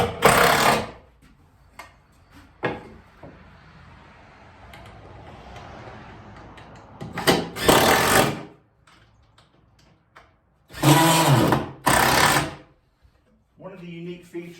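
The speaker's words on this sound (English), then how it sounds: "I'm just using a simple impact driver with a number 2 square drive bit." An impact driver with a No. 2 square drive bit drives screws for shed shelving, short loud bursts of rapid hammering chatter in separated groups, with quieter workshop noise and speech in the gaps.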